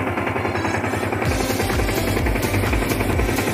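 A Yamaha Sniper 150 motorcycle fitted with a mushroom air filter, its engine running loud and close with a steady rough idle that rises into revs partway through, no talk over it.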